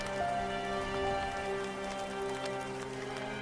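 Rain falls steadily on a surface as a soft, continuous patter under a layer of music. The sound is faint and distant, with no speech.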